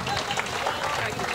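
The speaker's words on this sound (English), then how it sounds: "Almost a standing ovation." Audience applause and clapping fill the room after a jazz orchestra number, a steady dense wash of hands close by that nearly becomes a standing ovation, with some crowd noise mixed in.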